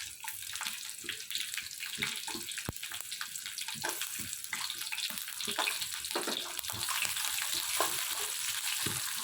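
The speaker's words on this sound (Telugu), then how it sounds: "చూడండి ఎంత బాగా కానింది ఆయిల్ చిట్టపట్ అంటుంది కదా" Sliced onion frying in well-heated oil in a pan, a steady dense crackle and spatter of sizzling with scattered sharper pops, close and continuous throughout with no talking.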